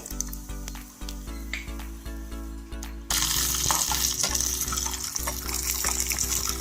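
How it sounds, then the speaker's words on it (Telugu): Peanuts frying in two spoons of oil in a pan, a sizzle that jumps sharply louder midway and then hisses steadily with crackles, over a low humming background, close and without voices. "రెండు స్పూన్లు నూనె వేసుకుని తర్వాత ఇది వేరుశనగ గుళ్ళు వేయించుకోవాలి"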